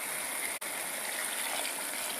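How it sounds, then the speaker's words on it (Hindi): Water gushes steadily into a pot of beef and bottle gourd curry, a close, continuous splashing roar broken by one tiny gap. "300 ग्राम पानी डाल रहा हूँ इसके अंदर"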